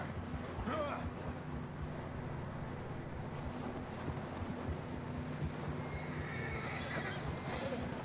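In Red Dead Redemption 2, a video game, a horse whinnies twice, early and near the end, over low wind and soft hoofbeats in snowy mountain terrain.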